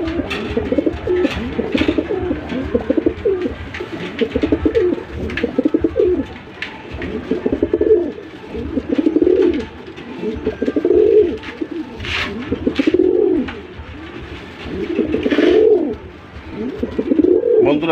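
Red chicken racer pigeons cooing in a loft, repeated low rolling coos in a steady rhythm, fairly close, with a few faint chirps and light rustling between calls.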